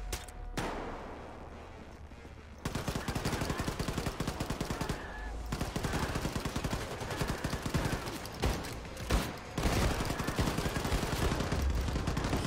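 Rapid automatic gunfire in the video game Wolfenstein 2, loud dense bursts of shots with brief pauses, a quieter stretch at the start, and occasional voice.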